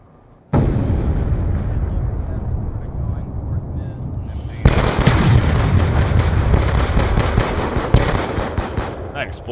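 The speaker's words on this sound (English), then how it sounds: "That explosion fucked up my aim." In a first-person shooter search-and-destroy match, a sudden loud blast cuts in, then a dense burst of rapid gunfire and explosions rattles on, close and heavy, with a second louder blast midway and no talk over it.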